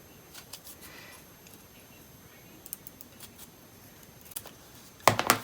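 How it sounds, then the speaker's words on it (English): Scissors snip the corners off EVA craft foam in a few faint, short cuts close by, ending with a louder cluster of crisp clicks. "I'm going to just start by cutting off these corners with scissors"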